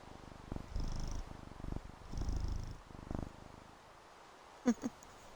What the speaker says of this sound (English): I hope you can hear that purr.